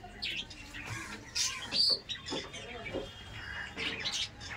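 Andhra pigeons in a tall, partly built pigeon loft give scattered calls and chirps, close and fairly lively, over soft background noise.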